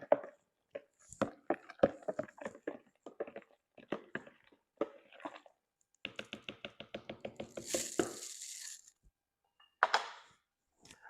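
A spoon stirs a pitcher of Sweet Tea Mule with sweet tea and fresh lime juice, giving quick clinking taps and a rapid rhythmic run of knocks against the container, then a brief rush and a final clink.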